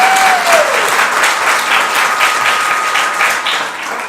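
Audience applause fills a council meeting, a dense, steady wash of many hands clapping that holds for several seconds before tapering slightly at the end.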